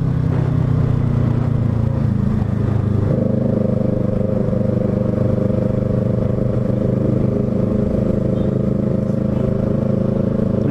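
A Yamaha YZF R3 motorcycle on a Sunday ride, its engine droning steadily and close with a slight shift in pitch partway through, wind rumbling underneath throughout.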